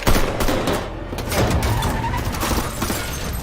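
Gunfire from a sniper action film rings out as sustained, dense rapid shots and crashing impacts that keep the whole stretch loud with almost no pause.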